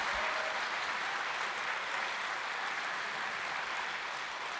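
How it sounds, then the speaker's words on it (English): Steady, sustained applause from an event audience honoring Senior Inspiration Award recipients, a dense wash of clapping that holds evenly for the whole stretch with no talk over it. "really a terrific round of applause right now"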